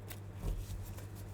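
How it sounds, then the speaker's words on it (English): Tarot cards are shuffled, making quiet, soft papery riffles in a few brief bursts close to the microphone. "let's give it one more shuffle"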